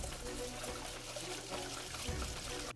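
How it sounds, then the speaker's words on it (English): Steady, faint running water rinsing rice, a continuous soft pour with no break. "I'm going to wash my rice."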